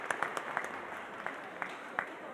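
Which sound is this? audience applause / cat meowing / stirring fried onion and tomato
audience applause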